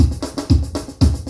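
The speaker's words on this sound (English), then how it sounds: "When I increase it to 30, that is the bass of the kick." Kick drum hits from a Yamaha PSR-S970 keyboard style with the low EQ raised to 30 land in a steady pattern, about three strong, boomy beats in just over a second. Lighter percussive ticks fall between them. The playback is punchy and close, with no voices.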